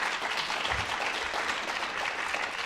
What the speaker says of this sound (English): So would everyone want to give a big round of applause for PK?